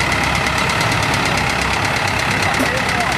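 A 1963 International 504 utility diesel tractor engine runs at a steady, rapid knocking idle, close and loud, under some talk from people nearby.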